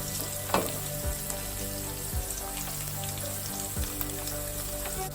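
A tempering of onion and curry leaves fries in hot oil, a steady close crackling sizzle with a few sharper pops and spatters throughout, no talking.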